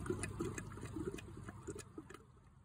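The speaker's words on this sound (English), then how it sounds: "Here's how that sounds when I shut the pump off on one of my existing filters." A pond filter siphon breaks as the pump shuts off, giving a soft gurgle of water and air in the plumbing with small trickles and drips that gradually thin out over a few seconds.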